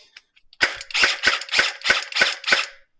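A toy Tec-9 gel ball blaster fires a rapid burst of about seven sharp snapping shots in a steady automatic rhythm, close and loud.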